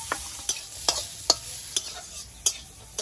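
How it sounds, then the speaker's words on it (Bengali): Cashews and raisins frying in hot ghee in a kadai: a steady close sizzle broken by regular sharp taps of a spatula against the pan, roughly twice a second. "কাজু আর কিশমিশটা ভেজে নিয়েছি"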